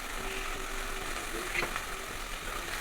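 Cumin, mustard seeds, onions, drumsticks and curry leaves frying in a pan, giving a steady close sizzle with a brief stirring scrape partway through.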